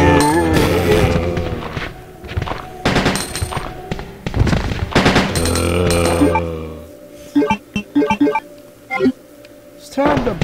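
Gunfire in the PC version of Resident Evil 2 rings out in loud bursts and rapid volleys, then scattered single shots, while someone talks and shouts over it.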